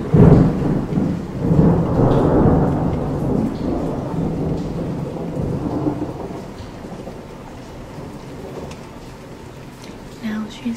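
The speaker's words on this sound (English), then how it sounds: "after that really loud thunder." Loud thunder rumbles through a rainstorm, a heavy roll that peaks early and slowly fades while steady rain hisses underneath.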